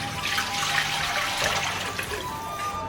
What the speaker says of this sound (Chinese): 锅中搅适量清水